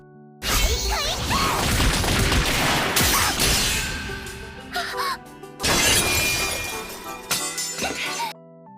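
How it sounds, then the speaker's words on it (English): In an anime fight, the Iron Maiden skill is shattered, giving loud crashing, smashing bursts with whooshes and breaking debris. A long violent stretch of destruction is followed by a second burst, then the sound trails off. "Glass easily destroys Iron Maiden and wants to kill them"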